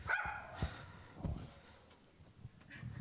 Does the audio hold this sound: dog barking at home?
yes